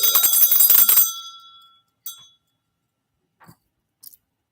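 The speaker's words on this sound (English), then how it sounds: "She should ring the bell." A small bell rings once with a bright, ringing tone that fades over about a second, followed by a few faint, brief clinks, close and with no talk.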